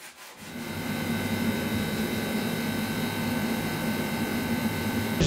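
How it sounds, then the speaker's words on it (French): Steady hand sanding of a car body with 800 grit sandpaper, a continuous close scratchy rubbing that runs evenly for several seconds with no talk. "je vais faire un ponçage intégral à la main au grain 800 pour gommer un petit peu"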